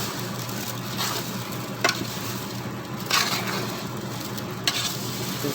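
Green chilli pickle is stirred and mixed in a pot, a soft continuous wet churning with a few sharp scraping clicks spaced out, fairly close and quiet, with no talking.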